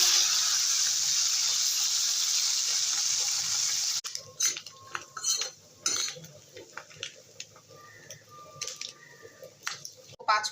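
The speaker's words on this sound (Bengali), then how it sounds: "একইভাবে সব মাছ ভেজে নেব।" Fish frying in hot oil produces a strong, even sizzle for about four seconds, then cuts to scattered clinks and scrapes of a utensil against the pan.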